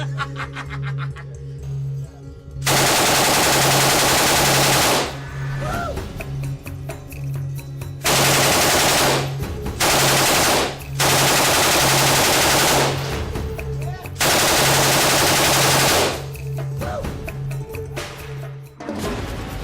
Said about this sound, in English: Infinity War has totally nailed the saw in the game, right down to the way that it sort of stutters when firing.